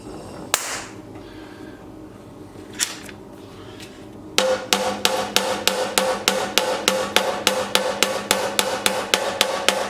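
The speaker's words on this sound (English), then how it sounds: "When you hammer that one, it's hammering onto the silencer tube" Metal hammering on a steel exhaust silencer tube for a 1937 Manx Norton motorcycle: a few isolated blows, then a steady run of loud, evenly spaced ringing strikes close by.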